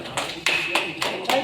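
An audience at a photography exhibition in a gallery, marking World Photography Day, gives a few sharp, scattered handclaps, close and irregular, with some voices in the background.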